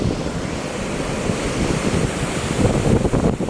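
Steady wind roaring across the microphone at the seaside, with surf washing underneath, growing gustier toward the end.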